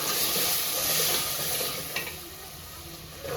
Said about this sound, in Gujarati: પાણી નાખી દીધું છે